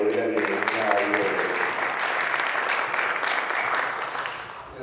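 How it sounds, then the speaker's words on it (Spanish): An audience at a workshop session in Lima claps to welcome a speaker. Steady, moderately loud applause runs for several seconds, with a voice talking briefly at the very start. "con un aplauso, te doy la bienvenida a Ivo"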